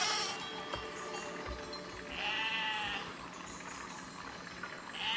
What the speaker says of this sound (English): these guys are like, they're like suicidal sheep.